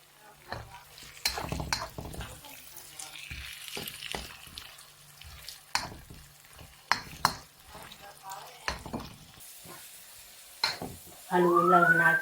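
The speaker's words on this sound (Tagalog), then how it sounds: "Haluin lang natin ang haluin hanggang sa yung kanyang sibuyas imaluto." Onions frying with leftover roast turkey, stirred in a pan with repeated scraping and clinking spoon strokes over a low sizzle, ending in a sharper, louder burst of sound.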